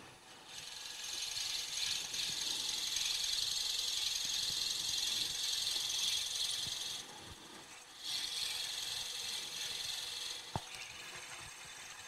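Wood being cut into a mortise on a lathe turning at slow speed, a steady scraping, rasping drone that runs continuously, stops briefly, then resumes with a sharp click near the end.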